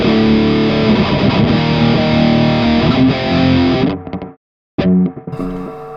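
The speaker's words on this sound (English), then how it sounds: "The reason I wanted to use the distortion on the crunch," Electric guitar through an Audio Assault amp simulator's crunch channel with distortion engaged, playing sustained distorted chords and notes for several seconds before a sudden cut to silence and a short distorted burst after it.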